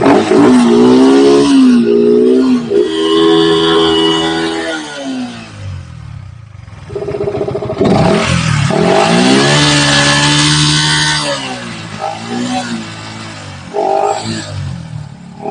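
Loud Yamaha motorcycle engine revving up and down in repeated bursts, close by, pitch climbing and falling with each throttle blip.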